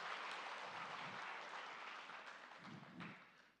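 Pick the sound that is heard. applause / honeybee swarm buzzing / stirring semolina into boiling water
applause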